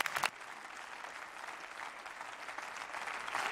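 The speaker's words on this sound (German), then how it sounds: "Fraktionsübergreifender Beifall für Bundesminister Hubertus Heil" Applause across party lines in the German Bundestag for Federal Minister Hubertus Heil: a steady wash of many hands clapping through a large chamber, continuous and fairly loud from start to end.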